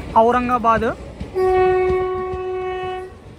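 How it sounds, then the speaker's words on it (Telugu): The Guntur to Aurangabad Express, made up of ICF coaches, sounds a loud two-tone horn blast, then a long steady horn near the track in a forest, over faint rolling rail noise. "ఔరంగాబాద్ ఎక్స్ప్రెస్ అనమాట ఇది ట్రైన్."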